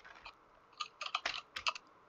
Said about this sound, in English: Because I've been doing a lot of typing.